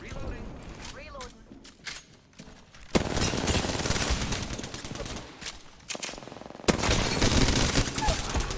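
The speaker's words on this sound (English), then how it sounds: "The enemies are shooting at me." Enemy gunfire in an Apex Legends-style shooter, bursts of rapid shots and clattering mechanisms that come and go in loud waves, with quieter gaps between volleys and a player's voice talking over parts of it.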